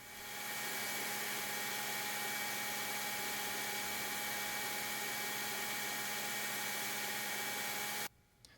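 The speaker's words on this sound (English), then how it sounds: "very carefully, removing the absolute minimum amount of material, finish grind the first set" A grinder works on removable handle scales for a tanto point knife, giving a loud, steady whirring hiss that runs unbroken for about eight seconds before cutting off abruptly.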